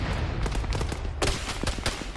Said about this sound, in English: this looks like an M203 grenade launcher, yeah? Yeah, 203. Popping off what looks like some smoke rounds